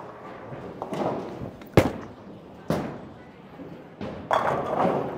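A Track Theorem Pearl bowling ball thrown down a lane: a heavy thud at release, then a few sharp cracking impacts as it strikes the pins, ending in rumbling scatter, fairly close and loud with faint voices behind.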